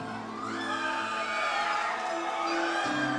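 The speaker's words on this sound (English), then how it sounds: "A lot of crowd support here for Loyd." A fight-night crowd cheers and whoops for MMA fighter Loyd David as he is introduced to the red corner of the cage, a loud, sustained roar with shouts rising over a steady arena din.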